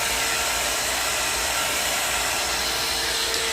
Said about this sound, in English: The dryer is not going to go in and get the roots for you.